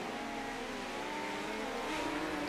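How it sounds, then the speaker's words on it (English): A midget race car runs around the inside of the Kern County track, a steady buzzing engine drone with a slight rise in pitch as it holds speed, moderately distant. "I think we got a car going around on the inside."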